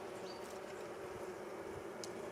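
Faint, steady buzzing of honey bees on a brood frame pulled from an overwintered hive, a low continuous drone with a few brief louder passes of individual bees close by.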